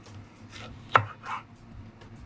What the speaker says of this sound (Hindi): कैप्सिकम को अगेन लंबे लंबे स्ट्राइप्स में कट करना है।